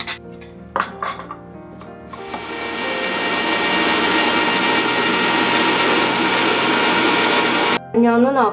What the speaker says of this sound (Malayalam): ഇനി മിക്സിയിലിട്ട് പൊടിക്കാം